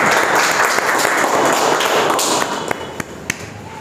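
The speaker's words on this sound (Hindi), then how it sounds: "मैं चाहता हूँ आप सभी लोग अपने लिए एक ज़बरदस्त क्लैपिंग कर दें" An audience at the opening of an Ayurveda health talk claps with dense, full applause. The clapping thins out toward the end, leaving a few separate, sharp claps.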